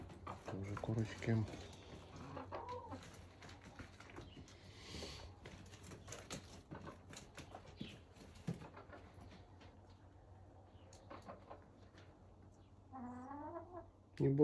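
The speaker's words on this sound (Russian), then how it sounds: "Тоже курочки." Hens cluck and murmur in a village chicken coop in Kazakhstan on a winter morning, faint and scattered under quiet talk. A clearer rising call comes near the end.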